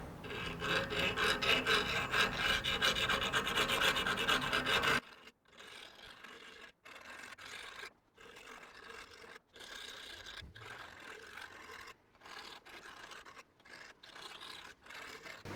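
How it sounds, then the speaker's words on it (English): A metal file rasps back and forth over a threaded eye bolt, first in a loud continuous stretch of close filing, then in shorter, quieter strokes separated by brief pauses. "I will make it smooth with the file"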